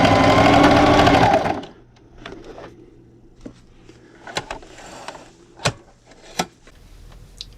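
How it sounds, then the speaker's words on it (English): Sewing machine backstitching through fabric for a dinner plate cozy: a loud, fast, steady whir of stitching for about a second and a half, then it stops, leaving faint clicks and light handling noises. "And then I'm going to backstitch."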